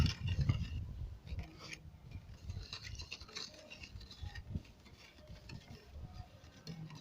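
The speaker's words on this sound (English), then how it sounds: "Keep mixing until it dissolves by how the caustic soda dissolves." Caustic soda is stirred in a container to dissolve it for laundry soap, a steady close scraping and pattering swish that runs continuously and alone.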